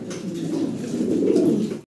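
Farm-bred pigeons coo in a steady, low rolling murmur, several birds overlapping at close range with no other sounds, until the clip cuts off abruptly near the end.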